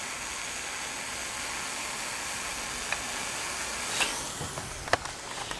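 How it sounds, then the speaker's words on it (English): An automatic air valve on a steam radiator vents as the radiator heats, giving a steady, faint hiss throughout with a few small ticks and pops near the end. "this is basically how you should hear any steam radiator operate that has a cutoff valve"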